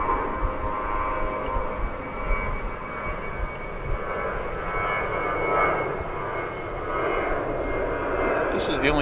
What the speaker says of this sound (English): In the background you can see one of those little prop cargo planes that's going off.